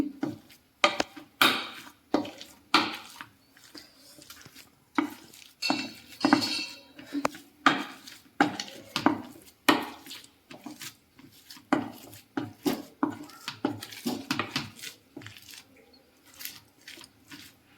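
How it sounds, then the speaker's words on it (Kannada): Boiled peas for pani puri are mashed in a vessel with a utensil, making a close, rhythmic series of dull knocks and light metallic clinks that come in uneven bursts with short pauses. "ಬಟಾಣಿ ಬೇಯಿಸಿದ್ವಲ್ಲ, ಅದು ಈ ಥರ ಸ್ಮ್ಯಾಶ್ ಮಾಡಿ"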